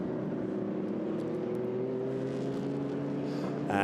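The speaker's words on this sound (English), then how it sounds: "So the field pouring down the pit road." Several Lamborghini Super Trofeo race cars roll down the pit lane at the Nürburgring with a steady, loud, low engine drone of idling and gently revving motors, holding constant for a few seconds before a brief lift near the end.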